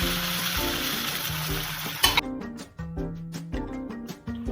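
Chicken cutlets sizzle and fry in a pan as they cook on both sides, a steady hiss that continues with small clinks and stirring noises, partly covered by background music.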